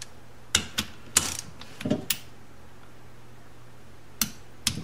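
Sharp, distinct clicks and ratcheting from a torque wrench on the crankcase bolts of a 1973 Honda CB750, spaced irregularly across a few seconds, close-miked over quiet background with no speech.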